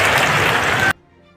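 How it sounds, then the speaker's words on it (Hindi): Crowd applause at a public ceremony in Orchha, Madhya Pradesh, greeting the Prime Minister: dense, steady clapping fills the first second, then cuts off abruptly into near silence before a brief burst returns. "सब जोरदार ताली बजाकर।"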